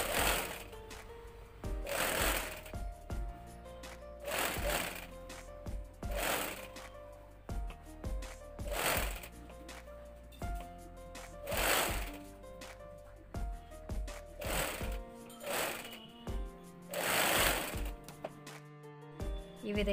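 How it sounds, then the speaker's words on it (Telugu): A sewing machine runs in repeated bursts while stitching a blouse sleeve, each whirring run of rapid needle strokes separated by short pauses, close and fairly loud, with no voices. "మళ్ళీ రెండోసారి దాని మీద స్టిచ్ చేసుకోవాలి"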